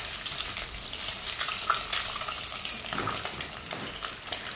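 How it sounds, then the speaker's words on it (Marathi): Eggs stirred and fried in oil in a pan, a steady close sizzle with scraping stirs and occasional utensil clinks against the pan. "आपल्याला आता खालीवरी करून घ्यायचे तेलामध्ये, छान तेलाचं कोटिंग आलं पाहिजे आणि छान असं परतल्या गेलेले पाहिजेत।"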